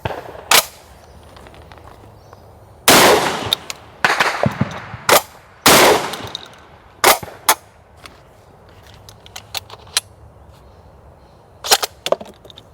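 A Çelik Arms Buck Master Gen 2 M shotgun fires 28-gram loads of 7.5 shot, a dozen or so loud, sharp blasts at irregular intervals, some in quick pairs, each with a brief ringing tail against a quiet outdoor background.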